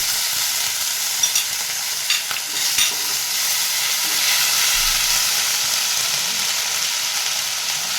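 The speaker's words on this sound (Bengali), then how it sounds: "এবার এই তেলের মধ্যেই আমি কতটা কালো জিরে ফোড়ন দিয়ে দিচ্ছি আর কাঁচা লঙ্কা দিয়ে দিলাম ফোড়নে।" Black cumin seeds, green chilies and ginger paste frying in hot oil make a loud, continuous hissing sizzle, with a few stirring clatters early on and the frying swelling slightly toward the end.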